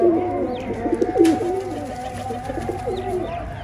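Domestic Sialkoti pigeons coo nearby in soft, repeated throaty phrases, steady over a quiet background with a few faint chirps.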